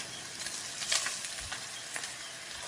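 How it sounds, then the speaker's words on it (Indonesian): Pindang tuna fries in oil in a wok, a steady close sizzle with occasional sharper pops and crackles. "nggak usah sampai yang kering banget Flavis, karena ikan tongkol pindang ini kan sebenarnya sudah mateng, jadi gorengnya sebentar aja"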